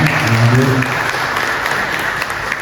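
A crowd at a gathering with the Persis organization in Johar Baru, Jakarta, applauds candidate Pramono Anung. The clapping is a steady, continuous wash, with a voice briefly audible at the start.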